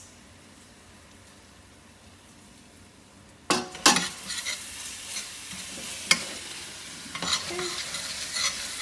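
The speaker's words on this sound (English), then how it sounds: "Cook it so you can smell it, because when it's finely grated garlic, you don't want it to burn" Finely grated garlic and red pepper flakes hitting hot oil, a quiet lull then a sudden loud sizzle that keeps crackling, with utensil scrapes and clinks and a brief word spoken.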